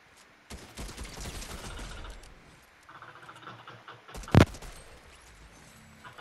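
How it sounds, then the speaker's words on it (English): Rapid bursts of gunfire from an opponent in Fortnite rattle in a dense cluster early on, easing off into quieter shots and finishing with one sharp, loud crack near the end. "motherfucker's shooting at me while I don't have a gun"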